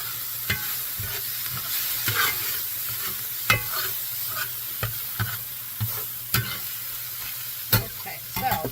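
Pasta stirred in a pot, a series of soft spoon knocks and scrapes at irregular intervals over a low background hiss, quiet and close, with no talk.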